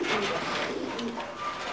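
Thai Titan meat pigeons coo in a breeding loft, a dense, continuous low murmur from several birds with faint higher chirps mixed in, close and unbroken.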